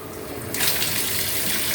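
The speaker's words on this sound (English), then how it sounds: "I think it's the noise, honestly, though. From the water faucet." A faucet suddenly bursts into a full, steady gush of running water while an American Pitbull Terrier is being bathed, fairly close and without talk.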